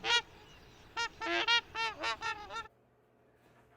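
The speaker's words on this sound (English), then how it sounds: "can you play the sound of a tundra swan? Now the sound of a trumpeter swan." Recorded swan calls, tundra swan then trumpeter swan, ring out as a series of clear honking, goose-like notes: one short call followed by a quick run of six or so bugling honks, then quiet.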